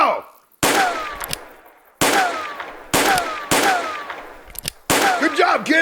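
Gunfire in a western drama: five sharp, loud shots spaced about a second apart, each with a ricochet-like whine and a decaying echo, with no voices between them.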